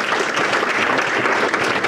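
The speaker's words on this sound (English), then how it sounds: "Give them a round of applause." Audience applause at an economic development forum: a dense, even wash of many people clapping, loud and continuous with no gaps.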